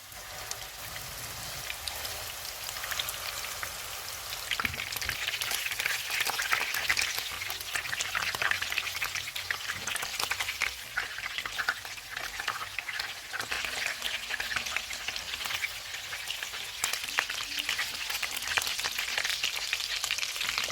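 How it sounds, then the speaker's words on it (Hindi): Kofta meatballs frying in hot oil over a low-to-medium flame, giving a steady, dense sizzle and crackle that keeps going at an even loudness throughout, with no voices. "अब हम इनको फ्राई कर लेते हैं।"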